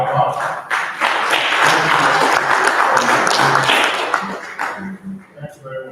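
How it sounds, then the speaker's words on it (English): A round of applause from a formal audience, a dense burst of clapping that swells quickly, holds for several seconds, then thins into scattered claps with a voice speaking near the end. "can we please give a round of applause to IPAC?"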